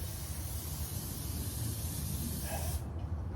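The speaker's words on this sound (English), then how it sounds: "got a little olive oil in the can. We're gonna spray the fish real good." A close, steady spray of olive oil from an aerosol can onto fish hisses continuously for nearly three seconds, then cuts off abruptly.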